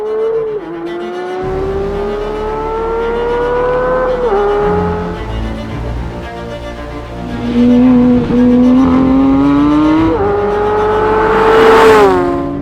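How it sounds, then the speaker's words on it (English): A 2022 Porsche 911 GT3 engine revs hard on a racetrack, its pitch climbing through each gear before dropping at the upshifts. It sounds loud and close throughout, with no talking. "I'm here to drive the 2022 Porsche 911 GT3"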